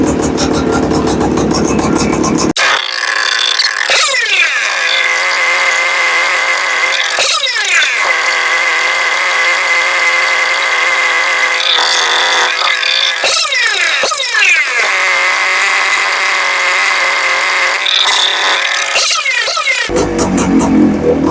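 A Honda Odyssey FL250 engine idles loudly and close after a cold start, a continuous buzzing two-stroke drone with repeated brief rev swells and dips, heard alone without talk.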